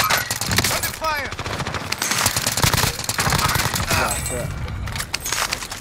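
Video game gunfire rattles in dense automatic bursts through most of the stretch, loud and close, with players talking over it.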